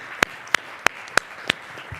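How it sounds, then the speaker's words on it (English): Five sharp, evenly spaced claps from a single person at a student government senate meeting, close and distinct against a quiet background, with no talk. "I think we should all give a round of applause to our committee chairs"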